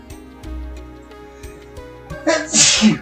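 A single loud sneeze bursts out near the end after a quiet stretch with faint background tones from the video game Wild Arms 2.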